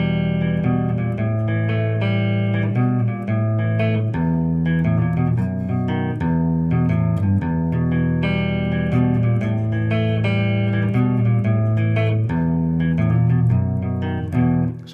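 An electric guitar plays the chords of a song, weaving intricate fills between them. The playing is steady, continuous and fairly loud, with no talking.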